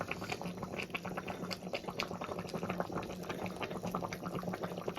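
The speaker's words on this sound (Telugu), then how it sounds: "పులుసు అనేది బాగా మరుగుతుంది" A pot of chandua fish stew bubbles at a steady boil, a dense run of soft pops and gurgles, close but fairly quiet, with no voices.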